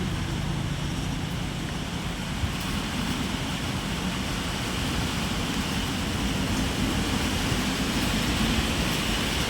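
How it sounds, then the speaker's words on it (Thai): Strong wind roaring steadily through a rainstorm on a late afternoon, a dense, continuous broadband rush with no breaks, close and loud throughout. "ลมแรงมากเลย"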